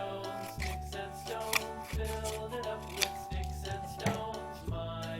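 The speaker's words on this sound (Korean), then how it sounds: "가위로 잘라서" Rhythmic snips of scissors cutting paper, about five crisp cuts in a row, close up over a soft ongoing hum.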